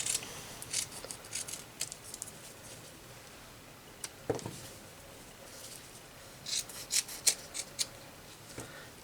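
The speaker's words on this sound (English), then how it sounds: "I'm going to cut them, like between them, with my regular scissors." Regular scissors snipping paper into small squares around drawn circles, crisp close cuts in scattered bursts, with soft rustling of paper between the snips.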